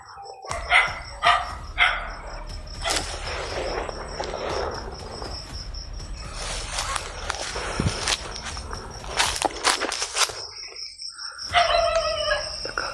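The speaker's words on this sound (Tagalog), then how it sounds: "May pinakawalan silang aso dito" Several dogs loosed in a rural village bark in bursts at mid distance, sharp yaps repeating early on and again near the end, over a steady bed of chirping crickets and night insects.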